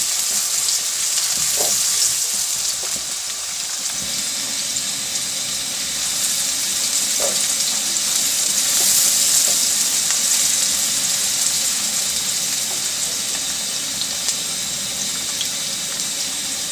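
Onions sizzle steadily in a hot pan as a spicy keema methi gets underway, a dense, even frying hiss holding close and fairly loud throughout with a few faint clinks of stirring.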